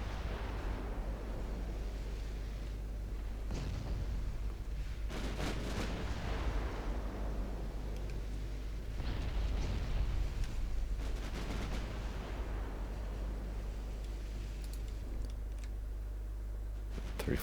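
Battleship gunfire in the naval strategy game Ultimate Admiral Dreadnoughts, with a few distant, muffled booms over a low, constant rumble of sea and engine ambience, fairly quiet overall.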